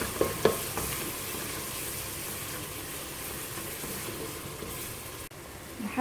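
Chopped onions sizzle steadily in a hot pan while being prepared for Egyptian mahshi, a constant close frying hiss with a couple of light clinks of stirring near the start.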